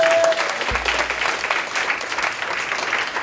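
An audience at a civil rights movement event breaks into sustained applause, a dense wash of clapping that follows a brief microphone tone and carries on steadily throughout.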